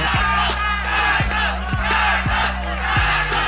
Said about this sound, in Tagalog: And the crowd chanting pa.